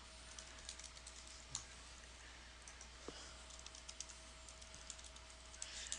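Quiet clicks of password entry on a computer keyboard, a light irregular run of key taps over a steady low hum, with a few slightly sharper strokes.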